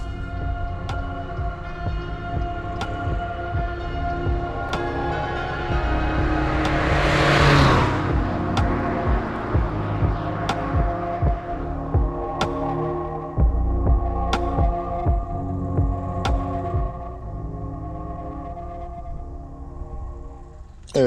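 A 2004 Mazda 3 1.6 turbo diesel engine runs, giving a steady low throbbing drone heard close up. One stretch swells into a louder rushing surge before settling back to an even idle, with no talk over it.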